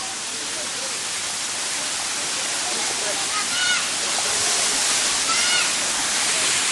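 Waterfall roaring continuously as a dense, steady wash of falling water close by, with voices talking faintly over the rush.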